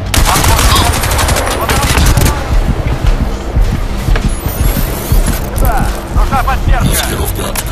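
Machine gun fire in the shooter game Crysis 2, with loud repeated bursts and rattling volleys over rumbling action, and someone talking at times.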